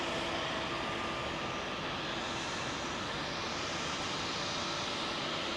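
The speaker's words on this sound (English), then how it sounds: "that knackered looking 777 is going out tonight" A worn-looking Boeing 777 jet departing Heathrow, its engines producing a dense, steady roar that fills the whole moment at a constant level with no voices.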